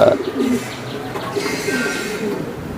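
Racer pigeons at a loft farm coo briefly near the start, then fade into a steady rushing background with faint voices.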